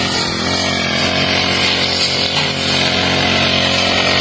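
A grass cutter runs loud and close as it cuts grass in a field, a steady high-pitched engine whine with a constant buzzing drone throughout and no pauses.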